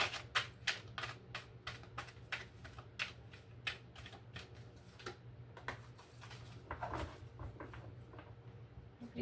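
A soft, steady run of rapid papery flicks and riffles as tarot cards are shuffled, close and fairly quiet, over a low background hum.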